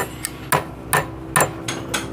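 A hammer strikes a part on a Honda GL Pro/MP motorcycle engine during repair, with five or six sharp metallic blows at a steady, deliberate pace, close and loud.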